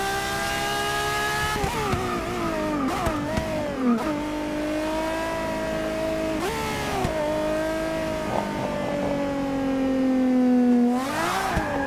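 A Ferrari FXX K engine revs hard in Forza Motorsport 6, with loud, steady high-pitched wailing and repeated rising sweeps as gears shift, continuous and close with no talk.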